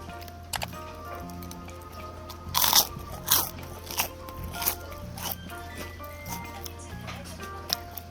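Close, crisp crunching bites of fried white bread from a bag at a traditional market, several loud crackly chews at an uneven pace, with occasional quiet murmurs between them.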